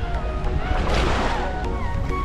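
A boat on the sea near a beach churns through the water with a rough, broadband rush of engine, waves and wind, close and continuous.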